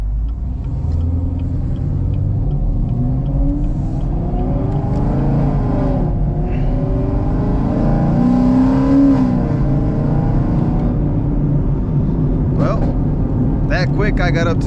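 A 750 hp Chevrolet Camaro ZL1 is driven on backroads, its engine rumbling loudly and steadily from inside the car, with revs rising and falling under ongoing talk.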